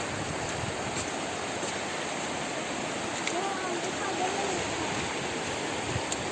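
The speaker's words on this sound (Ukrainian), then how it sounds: "Ну, буйна, гарна річка." A turbulent mountain river rushes in a dense, unbroken hiss of moving water, steady and close, with faint hints of voices beneath it.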